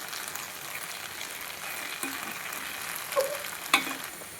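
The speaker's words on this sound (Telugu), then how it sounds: "ఇలా బెండకాయని ఒక 5 మినిట్స్ ఉడికించుకోవాలి" Okra simmering in a pan for a tomato curry gives a steady, soft sizzle throughout, with a few brief clinks or stirring scrapes near the end and no one speaking.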